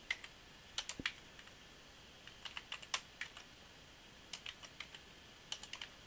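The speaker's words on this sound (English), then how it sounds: "I'm going to type in header." Faint, quiet typing on a computer keyboard, with scattered quick bursts of clicky keystrokes and short pauses between words.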